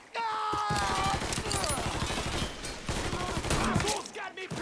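Dense automatic gunfire fills a firefight in the video game Mafia III, rapid bursts of shots hammering almost continuously with shouted voices mixed in.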